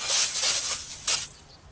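Steady hiss of a water spray rinsing off grill parts for about a second, briefly louder before cutting off and leaving a faint background.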